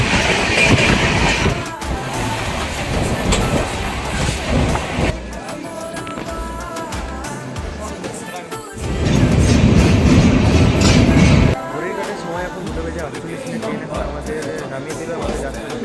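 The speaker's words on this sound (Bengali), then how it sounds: "তো আজকে আমরা যাত্রা করতে চলেছি ট্রেন নাম্বার 13151, কলকাতা থেকে জম্মু তাওয়াই পর্যন্ত, জম্মু তাওয়াই এক্সপ্রেসে বানারসি পর্যন্ত।" Jammu Tawi Express passenger train from Kolkata, hauled by a WP7 locomotive, runs loudly on rails with continuous clickety-clack and rumbling wheel noise, surging louder in bursts as carriages pass over joints.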